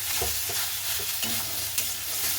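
Potatoes with garlic and turmeric sizzling in a frying pan while a spatula stirs them, a dense steady hiss with repeated soft scraping strokes, close and continuous, with no voices.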